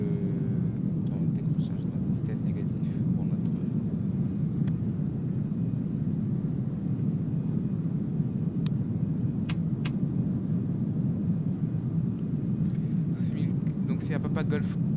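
A heavily loaded airliner flying from Orly to Brussels climbs after takeoff, its engines a steady, loud, low rumble throughout, broken by a few brief clicks.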